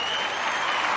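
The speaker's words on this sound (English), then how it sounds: "we want to give them all a round of applause" A crowd bursts into dense, loud applause, a continuous roar of clapping with voices blended in.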